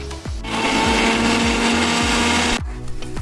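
A kitchen blender whirs loudly as it grinds two medium-sized chopped onions into paste for Kolkata-style biryani, starting after a short pause and running steadily for about two seconds before cutting off abruptly.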